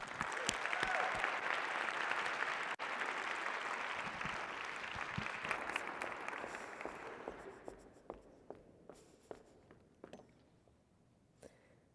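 An audience applauds to welcome the speaker at an academic lecture, a steady wash of clapping that fades after about eight seconds into scattered claps, footsteps and small knocks in the room.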